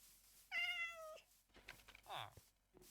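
A Minecraft cat meows once in a drawn-out, tonal cry, followed by a shorter squeaky mew, with faint background noise between.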